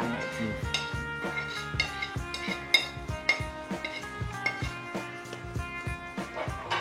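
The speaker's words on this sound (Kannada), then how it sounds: "ಆ ಬಾಣಲೆಗೆ ಒಂಚೂರು ಅನ್ನ ಹಾಕೊಂಡು ಕಲ್ಸ್ಕೋಣ" Rice being mixed with a spatula in a pan for molagogare, with repeated metallic scrapes and clinks in a fairly steady rhythm.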